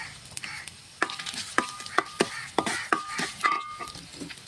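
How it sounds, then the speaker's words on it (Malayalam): Mustard seeds and dried red chillies dropped into hot oil for a cauliflower pulissery, giving sharp scattered pops and crackles over a faint sizzle, fairly quiet with no voices. "അടുത്ത് ഞാൻ കടുക് ഇട്ടു കൂടെ വറ്റൽ മുളക് ഇട്ടു"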